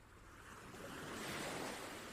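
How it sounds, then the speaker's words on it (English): Sea waves roll gently against rocks below a lighthouse, a soft, steady wash of surf that swells slightly and then eases, heard alone. "Far below, the sea rolls gently against the rocks, patient and unchanging."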